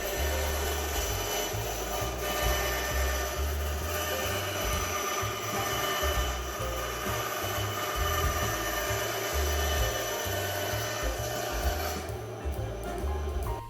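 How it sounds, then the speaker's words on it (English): A bandsaw cuts artist canvas to size for miniature wainscoting, giving a steady, close mechanical whir and buzzing blade hum that runs continuously with a faint high whine, then eases near the end. "I'm using my bandsaw to cut the artist canvas to size."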